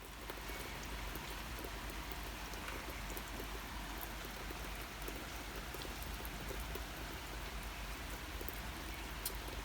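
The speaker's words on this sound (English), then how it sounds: "It's just gone 11 o'clock and it hasn't stopped raining. In fact, it has got worse." Heavy rain falls steadily around a home and caravan, a dense, even hiss with scattered drop taps, continuous and unbroken throughout.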